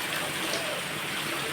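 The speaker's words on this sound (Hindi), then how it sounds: "बारिश देखो कितनी ज़ोरों से बारिश हो रही है।" Heavy rain pours down steadily and close, a dense, even hiss with no breaks across the whole stretch.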